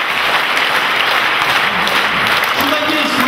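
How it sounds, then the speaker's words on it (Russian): Warm, steady applause from concert listeners in Atomgrad greeting choir performers after songs of the First World War, continuous clapping filling the hall, with a voice briefly audible near the end. "Благодарные слушатели Атомграда приветствовали артистов бурными аплодисментами."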